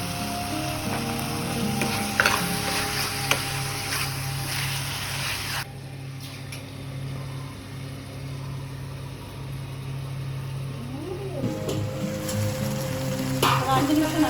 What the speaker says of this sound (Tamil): ஒரு 2 நிமிஷம் நல்லா கிளறி விட்டுருங்க